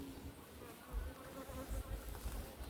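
Honey bees buzz at an open beehive in a dense, steady drone that swells and fades a little, close and fairly quiet, with no voices.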